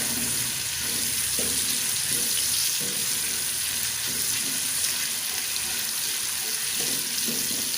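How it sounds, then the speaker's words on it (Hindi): Onions frying in hot oil toward light brown for matar pulao, a steady close sizzle running continuously with occasional soft stirring clatter. "प्याज को हम लाइट ब्राउन कर लें"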